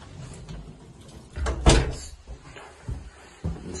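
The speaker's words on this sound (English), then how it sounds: "Here you've got a separate front door as you come in." The front door of a first-floor flat in Golders Green opens with a clunk of the latch and a thud near the middle, followed by a few softer knocks and creaks close by.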